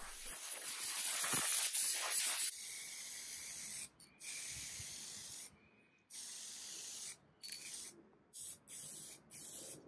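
A spray gun applies a polyurethane base coat to a restored table, giving a loud, steady hiss for a couple of seconds, then a run of shorter bursts broken by brief pauses as the trigger is released and pulled again.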